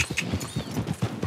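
A horse's hooves clip-clop in a quick, steady rhythm in Red Dead Redemption 2, close and clear for a brief moment with no talking.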